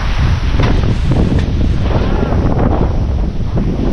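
Strong wind roars steadily across a microphone outdoors near open water, a loud continuous buffeting rumble with no pauses.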